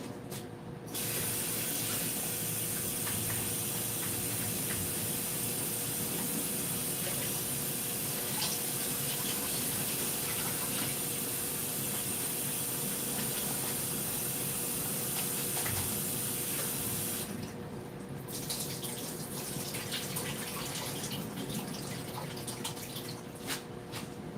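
Tap water runs steadily into a kitchen sink while vegetables for a corn chowder are rinsed, a continuous close splashing spray that briefly changes near the end, with no talk.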